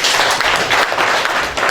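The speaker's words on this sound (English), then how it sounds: "let's give her a big clap" An audience at an agriculture and environment association workshop in Uganda claps, a dense, steady burst of many hands, loud and close, lasting under two seconds.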